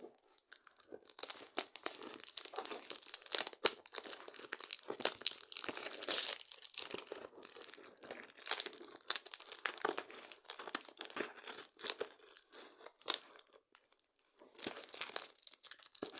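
Sustained crinkling, crunching and tearing of heavily taped packaging as a parcel holding a phone and a tablet is opened, with close, continuous rustles and sharper rips throughout and no talking.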